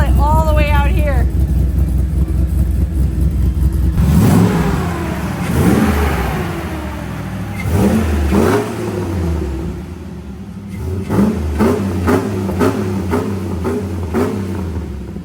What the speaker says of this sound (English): Exhaust. You can feel it all the way out here.